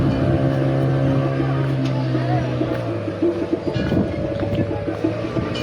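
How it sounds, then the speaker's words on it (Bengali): A speedboat runs on the river at Haridwar, with a steady engine drone and wind noise throughout and voices mixed in over the choppy water sounds. "এই যে স্পিড বোট রাইড হচ্ছে বা বোট রাইড হচ্ছে"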